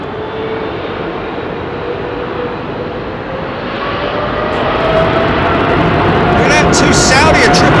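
A Saudia Boeing 777 airliner departs Heathrow's runway 27R, its jet engine roar building steadily from a moderate distance to a louder, fuller rush, with a person talking over it.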